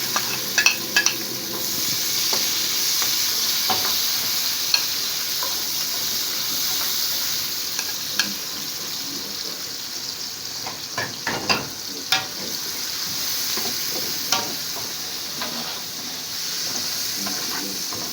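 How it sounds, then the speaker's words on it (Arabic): Red peppers and garlic sautéing in a pan give a steady close sizzle and hiss, broken by scattered scraping and clicking as they are stirred. "نشوح الفلفل كده شويه في"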